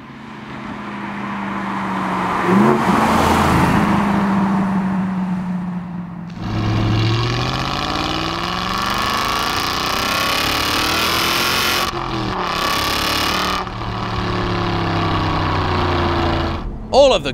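Supercharged 600 hp Aston Martin V8 Vantage with equal-length manifolds, a small crossover and a valved back box, its engine and exhaust revving loudly and continuously, rising and falling, with a brief pause near the end.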